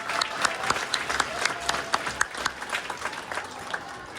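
Audience applause at a middle school winter concert, a moderate spread of clapping from a crowd at some distance, fairly quiet and continuous.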